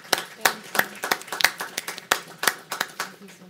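Audience members clap to welcome an author at a policy-institute book event; distinct, sharp hand claps from a small crowd ring out irregularly and fairly close, a scattered round of applause rather than a dense roar.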